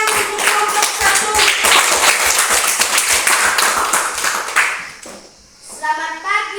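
Classroom applause for a presenting student group: dense clapping from a room of pupils fills about five seconds, then fades as a voice begins speaking.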